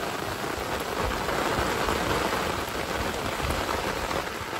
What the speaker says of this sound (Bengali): সত্যি বৃষ্টিও হচ্ছে আজ একটু